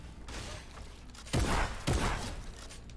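Gunfire in a fast-paced video game: two loud, close bursts of shots about half a second apart, standing out over a steady background of game noise.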